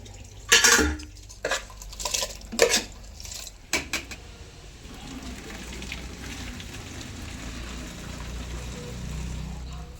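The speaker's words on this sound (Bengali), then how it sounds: "এই যে জল ফুটে গেছে, ভাতের জল। আমি এবার এর মধ্যে চালটা দিয়ে দেবো।" Soaked rice poured into a pot of boiling water for biryani: a few sharp clattering pours and scrapes up front, then a steady soft bubbling hiss that carries on alone.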